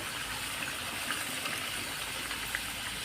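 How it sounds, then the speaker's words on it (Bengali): A steady gush of water poured into a fish curry spice mix in a pan, a continuous close hiss with no talk. "আবারও একটুখানি আমি এর মধ্যে জল দিয়ে দেব"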